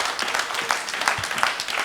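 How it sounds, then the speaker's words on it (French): Audience applause at a youth entrepreneurship debate quarterfinal in Guinea: a close, steady wash of many hands clapping with scattered sharper claps standing out, continuous throughout. "Merci, merci, on l'applaudit."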